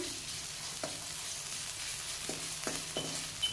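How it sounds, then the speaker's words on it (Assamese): Crushed ginger and garlic fry in mustard oil with a soft, even sizzle, broken by a few sharp scraping stirs against the pan. It is quiet and close, with no talking. "এয়া মিঠাতেল দি লৈছো এতিয়া ইয়াতে মই এয়া থেতেলিয়া থোৱা আদা আৰু অকণমান নহৰু দি লৈছো"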